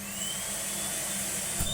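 A Numatic Hetty HET200 vacuum cleaner, freshly refurbished, runs steadily with a constant loud whine and airy motor drone, close up and without talk.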